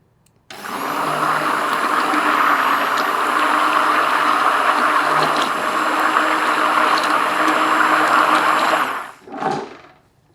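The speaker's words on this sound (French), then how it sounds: "si on a un mixeur girafe à la maison, mettre un coup de mixeur dedans afin de vraiment avoir une ganache parfaitement émulsionnée" An immersion blender whirs loudly and steadily through vanilla ganache for about eight seconds, close up and alone, then cuts off and spins down with a short final burst.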